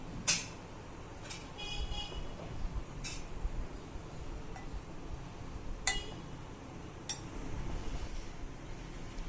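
A spoon clinks against a bowl while salt and sugar are mixed, giving a few sharp, fairly close ticks spread across a quiet kitchen background.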